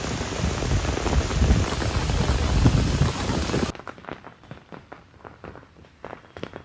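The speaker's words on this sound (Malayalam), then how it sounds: "ഒന്നൊന്നര മഴയായിരുന്നു" Heavy rain pours down steadily in a dense, loud wash for nearly four seconds, then abruptly gives way to quieter scattered drips and light patter.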